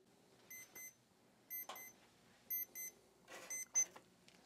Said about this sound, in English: I'm going to set this timer.